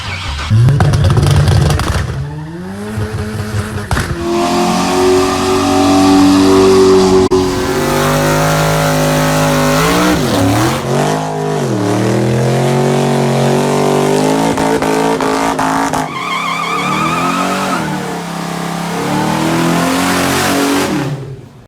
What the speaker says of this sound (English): go ahead and turn the key and let the pump do its thing, and then let's go ahead and fire it. Here we go. This is first official start.